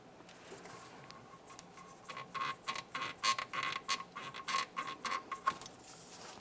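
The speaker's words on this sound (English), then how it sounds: "take hold of the hose, give it a twist, and remove it from the area" A rubber PCV hose is twisted and pulled free from its grommet on a 1994–2002 Dodge Ram 2500 engine, giving a burst of rapid squeaky creaks and rubbing chirps for several seconds, close up.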